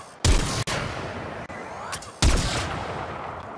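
A charged Lanka weapon in Warframe fired at a wall, two loud sharp shots with booming tails, each followed by a long decaying hiss and whine.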